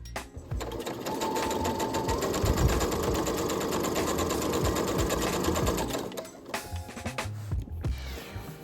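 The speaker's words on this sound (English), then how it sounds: "I'm literally just going to sew all the way down along there." A sewing machine runs in one steady, close burst for about six seconds, stitching a waistband along the center back of skirt panels for a Snow White cosplay, then stops and leaves quieter handling sounds.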